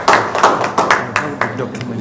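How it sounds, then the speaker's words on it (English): Audience clapping at a diaspora event: a few loose, separate claps at an uneven pace, with voices mixed in. "Clap again now."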